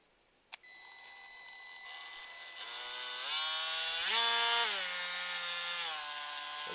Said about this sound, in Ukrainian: Попробуємо, як ріже дерево.